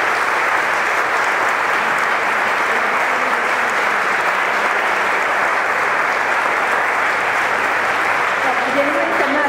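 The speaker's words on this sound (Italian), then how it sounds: "questo applauso va anche a lui, a tuo padre" Sustained applause from a seated audience at a public talk, a dense, even clatter of many hands that fills the whole stretch without letup.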